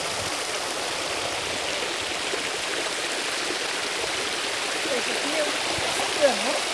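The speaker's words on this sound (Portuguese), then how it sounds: "continua transbordando aqui nessa pequena parede de concreto" Water pours steadily over a small concrete wall at a reservoir spillway, a continuous broadband rush that stays even in loudness, with a voice speaking faintly near the end.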